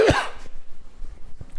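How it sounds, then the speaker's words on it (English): One short, harsh cough close to the microphone, followed by faint room noise and a soft thump. "Why am I still coughing? I thought I was over this."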